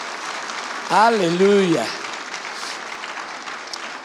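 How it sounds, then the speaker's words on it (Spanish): A church congregation applauds during a morning service, a steady wash of clapping throughout with a voice calling out briefly over it near the start. "Dale un aplauso al Señor en esta mañana."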